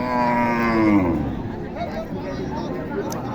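A single drawn-out cow moo rises close by at a busy cattle market in Naogaon, then fades into the babble of people talking and haggling nearby.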